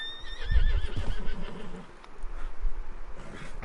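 A rattled horse in Red Dead Redemption 2 gives a close, loud whinny, followed by softer snorting and hoof clip-clops.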